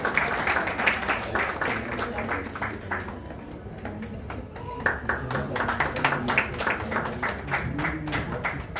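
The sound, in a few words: audience applause welcoming a guest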